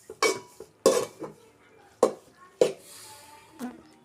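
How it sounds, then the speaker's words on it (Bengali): Noodles tossed with Maggi masala are stirred in a pan, with about five distinct metallic clanks and scrapes of a utensil on the cookware spaced irregularly over a quiet background. "এবার আলতোভাবে এভাবে নেড়ে নিব"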